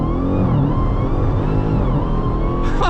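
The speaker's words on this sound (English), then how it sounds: "0 to 60 in the Demon 170." Dodge Demon 170 accelerating hard from a standstill toward 60 mph, a loud dense engine roar with climbing harmonics throughout, ending in a short burst of broadband noise.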